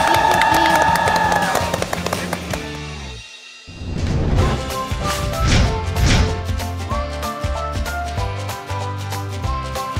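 A studio audience claps and cheers loudly for two players from Vietnam's national volleyball team, a dense burst of applause that briefly dips and then swells again.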